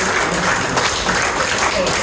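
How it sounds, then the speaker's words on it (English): Audience applause at a corporate dinner after a mind-reading act, a steady wash of clapping from a crowd, filling the whole short moment. "Give her a big round of applause."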